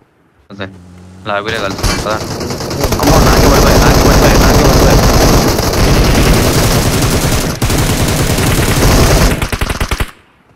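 Sustained automatic gunfire from the battle royale video game BGMI, loud and continuous bursts over in-game engine noise, with excited players shouting over the shooting.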